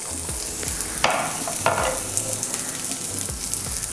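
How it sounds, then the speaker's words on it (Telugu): Cut okra sizzles steadily in hot oil in a pan, with occasional louder scrapes and clinks as it is stirred, close and continuous with no talking. "ఇవి ఫ్రై అయ్యేంత వరకు వెయిట్ చేద్దాం."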